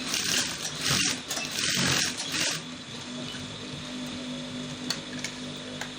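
A sewing machine runs in short, close, whirring bursts while a jogger front pocket is sewn down, then stops and leaves a quiet background hum. No one speaks.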